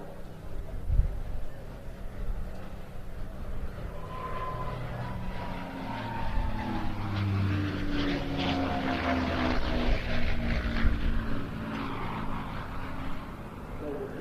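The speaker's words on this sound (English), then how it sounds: "This aircraft then flies in part as a tribute to him." A propeller aircraft flies past at an air festival, its engine drone rising and swelling as it passes while a commentator talks over it.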